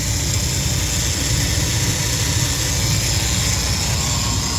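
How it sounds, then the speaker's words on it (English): A 1998 GMC Safari van engine idles with a steady, continuous drone, low rumble and hissy upper noise, loud and close, with no knocking and no voices. "Or just engine noise, but there's no knocking."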